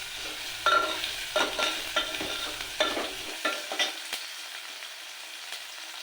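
Roasted mung beans frying in a pan with ground spice paste, stirred in a steady rhythm of scraping strokes over a soft continuous sizzle, close and moderately loud, with no one talking.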